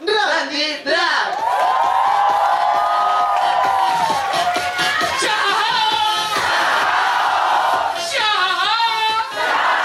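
A drag show audience at Club Indigo in Iquique cheers and whoops loudly, with shouts and yells rising in bursts over a continuous crowd roar. Voices call out throughout.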